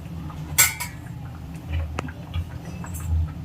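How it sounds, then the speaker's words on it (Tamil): Metal lid set onto a cooking pot of chicken gravy, with a sharp clatter and a few lighter clinks and taps of metal cookware following, close and moderately loud over a low kitchen hum. "இப்போ மூடி வச்சிடலாம்."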